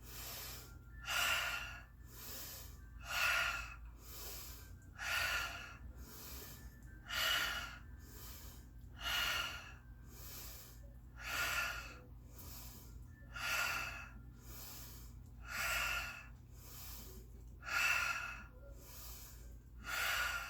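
Slow, deep breathing during a workout session, with about nine soft, evenly spaced breaths that rise and fall in a steady rhythm over quiet background hum, and no talking.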